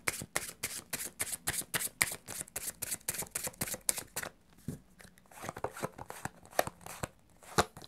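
Oracle cards being shuffled by hand for a tarot reading, a close, rapid run of crisp riffling slaps and flicks that pauses briefly midway, then resumes in uneven bursts.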